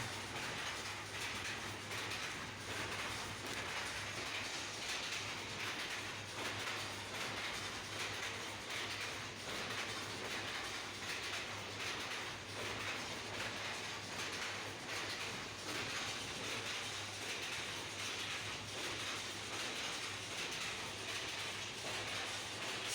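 Vehicle running after a brake shoe fitting: a continuous mechanical rumble and hum with a steady low drone and faint rattles, holding an even level for the whole stretch.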